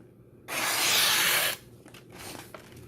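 Serrated saw blade of a Victorinox Soldier knife cutting, one loud, close rasping stroke lasting about a second, then a fainter, scratchier follow-up stroke.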